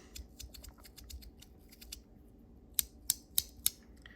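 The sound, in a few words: Lautie x ACEdc haptic coin fidget toy clicking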